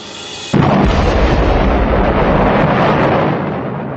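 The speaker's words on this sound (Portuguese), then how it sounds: "De repente ele explode." A sudden loud explosive burst, like a foaming solution erupting as volcanic rock does, hits after a brief quieter lead-in, then a sustained roaring rumble that slowly fades over a few seconds.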